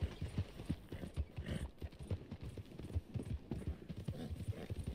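Horse hooves clip-clopping steadily at a walking pace in Red Dead Redemption 2, close and continuous, with a dense low rhythmic thud throughout.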